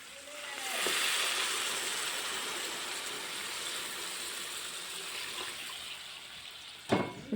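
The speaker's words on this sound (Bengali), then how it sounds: "এখন দিয়ে দেবো ঝোলের জন্য জল" Water poured into a pan of curry with green chilli paste to make the gravy, a fairly quiet, steady gushing pour that runs from start to end, with a small clatter near the close.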